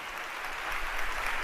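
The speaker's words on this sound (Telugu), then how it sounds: "నమ్మిన వారు గట్టిగా చప్పట్లు కొట్టి దేవుని మహిమపరచండి" A church congregation claps loudly to glorify God in a brief, dense burst of applause at steady strength.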